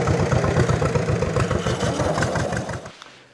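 A 1929 John Deere GP tractor engine runs close by with a loud, pulsing two-cylinder chug and rattle, then winds down and fades out at the end.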